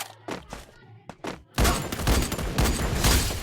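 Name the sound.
sniper rifle gunshots in a video game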